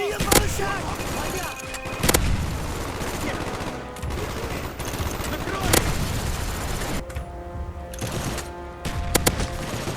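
Heavy game combat in Call of Duty: Black Ops, with a crossbow firing explosive bolts amid dense, continuous gunfire and sharp blasts. Loud, close bursts pile up across the stretch, mixed with other battle noise.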